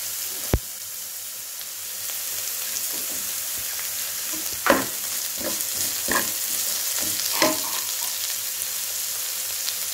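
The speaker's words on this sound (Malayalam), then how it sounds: "ഇനി നമുക്കിതിലേക്ക് കറിവേപ്പില ചേർത്ത് കൊടുക്കാം." Curry leaves fry in hot oil in a pan, a steady close sizzle broken by a few soft stirring clatters and one sharp tap near the start.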